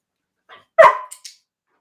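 A dog in a training session lets out a short whimper followed by a single sharp bark and a couple of faint yips, close by and alone in a quiet room.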